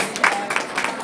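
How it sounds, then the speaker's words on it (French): Brief burst of audience applause at a live fundraising auction challenge, a crowd clapping steadily for about a second. "ça vaut vraiment une bonne main d'applaudissement"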